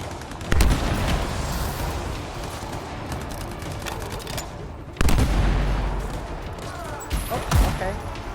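Video game gunfire in Anthem, with rapid bursts and sharp booming impacts over a dense battle din, loud and close, with voices talking in the background.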